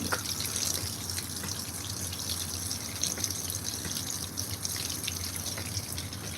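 A modern washing machine fills with water, a steady hiss and gush of inflowing water with faint drips, continuous and close throughout.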